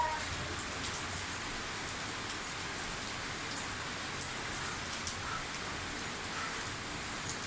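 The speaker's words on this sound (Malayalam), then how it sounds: "പിന്നെ ഇങ്ങനെ മഴയും നോക്കി കാപ്പിയും കുടിച്ചൊക്കെ ഇരിക്കുകയാണ്" Steady rain falls just beyond a home's sit-out, a close, even wash of dripping and splashing that carries on without a break and with no voices.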